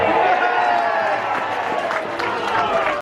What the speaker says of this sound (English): Biggest cheer of the day as Charlie keeps warm.